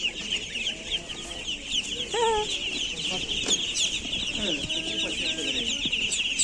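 Hens at a busy Saturday seedling and flower market in Cherkasy cluck in short, close bursts over a constant crowd murmur, and people talk nearby.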